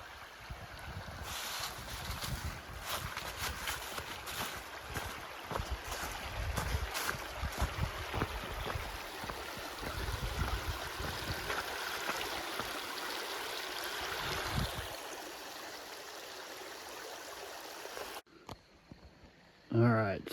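Creek water flows and burbles along the Buffalo River Trail, steady and close with wind buffeting the microphone, the rushing fading after about fifteen seconds and a brief thump near the end.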